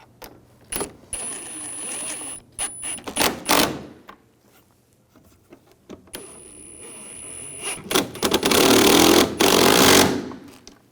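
A power tool tightens the bumper bracket bolts on a 2011-2018 Volkswagen Jetta, giving several short bursts of loud mechanical rattling between pauses and ending in a longer, louder run.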